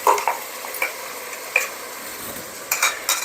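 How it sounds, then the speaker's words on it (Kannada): Raw ground masala frying in oil for menthya bath, a soft steady sizzle under sharp intermittent scrapes and clinks of a spoon stirring against the pan, close and fairly loud. "ನಾವಿಲ್ಲಿ ಹಸಿ ಮಸಾಲೆ ಹಾಕಿರೋದ್ರಿಂದ ಸ್ವಲ್ಪ ಫ್ರೈ ಆದರೆ ಚೆನ್ನಾಗಿರುತ್ತೆ"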